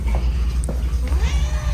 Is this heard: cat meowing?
yes